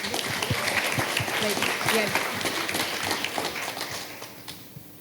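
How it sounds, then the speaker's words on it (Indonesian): Audience applause at a nursing diploma graduation ceremony in Merauke, a sustained wash of clapping from a large crowd that gradually thins and fades out, with some voices underneath. "Tepuk tangan dong."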